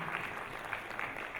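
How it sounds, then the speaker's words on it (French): Steady applause fills a panel session as an audience claps for a speaker from the Ministry of Commerce, a dense, continuous patter with no voices over it. "On va l'applaudir"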